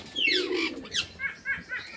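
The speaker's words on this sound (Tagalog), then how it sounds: "marami mga kalapati dyan" A burst of wing flapping as pigeons take off at a butterfly sanctuary in Bohol, Philippines, with a few soft coos and flutters following, close and brief.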